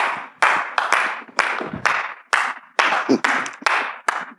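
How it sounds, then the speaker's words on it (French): A studio audience on a modest TV set claps in a series of distinct bursts to welcome an arriving guest, fairly close and moderately loud. "Je voudrais donc, chers privilégiés, que vous m'aidiez à recevoir sur notre modeste plateau le prophète Palinfo Raymond, par vos acclamations là où vous êtes."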